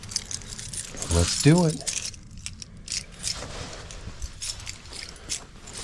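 A bunch of Jeep Wrangler vehicle keys jangles briefly in a short metallic burst, close and clear, with someone speaking briefly and other handling noises around it.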